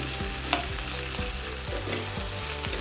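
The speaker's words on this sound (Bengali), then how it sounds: "টমেটো কুচি দিয়ে দিলাম আবারও নেড়েচেড়ে ভালো করে মিশিয়ে নিচ্ছি" Chopped tomato stirred into oil with ginger-garlic paste in a frying pan for Bengali rui fish kalia, giving steady close sizzling and frying hiss with soft repeated scraping strokes of a spatula, no voices.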